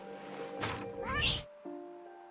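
A cat meows in the video game What Remains of Edith Finch, one drawn-out, rising-and-falling meow over a faint background hum, followed by quiet tones.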